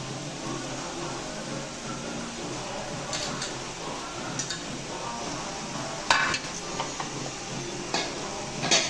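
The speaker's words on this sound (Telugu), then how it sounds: "ఆలుగడ్డలు అయితే వేసేస్తున్నాను" Potatoes for an aloo curry, mixed with turmeric and salt, are tipped into a pan and stirred, giving faint scraping and a few sharp utensil clinks against the metal over a low, steady background hiss.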